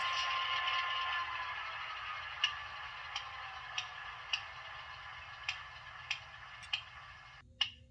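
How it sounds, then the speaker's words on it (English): Walthers Proto GP9 DCC model locomotive in Southern Pacific Phase II livery, dead on arrival, ticking with its prime mover and sound switched off: sharp, evenly spaced clicks roughly every 0.6 seconds over a steady hiss, with a louder click near the end. "It just keeps on clicking."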